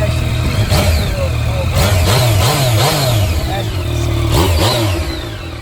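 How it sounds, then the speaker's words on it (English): A stock FZ09 motorcycle engine revs up and down several times close by, rising and falling in pitch over a steady idle rumble. "Oh yeah, let's give her a little rev."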